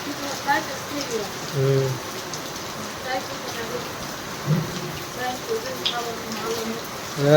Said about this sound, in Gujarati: વરસાદ એટલે જો આખી ઓસરી પલરી જ જાય બધે